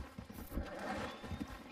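Horse hooves clip-clop in the Red Dead video game, a quiet, uneven run of soft thuds set in a low rumble of game ambience.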